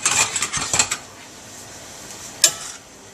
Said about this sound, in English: We're going to give it a quick stir.